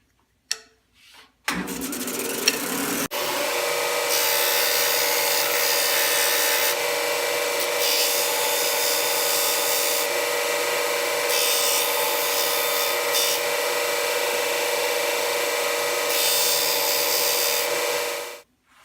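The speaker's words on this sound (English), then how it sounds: "now we're at this sander, and now we'll just go ahead and sand right up to that line" A power sander whirs up and runs steadily close by, its pitch shifting slightly as wood is pressed against it to sand a homemade wooden fidget spinner down to a marked line, then winds down at the end.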